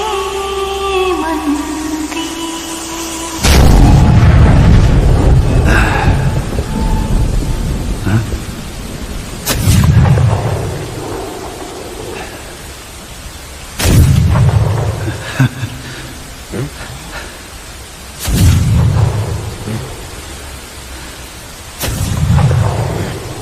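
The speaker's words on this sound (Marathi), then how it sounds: "अरे आम्ही सांगतोय तोफ वाजवा!" Cannon fire in a staged historical tableau of the Pavankhind battle: five loud booming blasts spaced about every four to five seconds, each with a deep rolling rumble that fades between shots.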